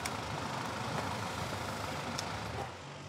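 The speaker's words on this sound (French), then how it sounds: "on reste en première et sagement en garant la voiture dans le parking" A car engine idles and creeps along in first gear while parking at a Cap-Ferrat palace hotel, a steady low rumble with broad noise that eases off near the end, and no voices.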